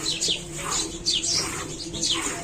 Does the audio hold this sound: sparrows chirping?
yes